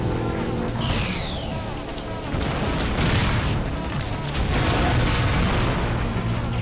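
Tank cannon blasts and explosions rumble heavily and continuously in a GoldenEye: Rogue Agent battle, a dense, loud barrage with crashing booms and no pauses.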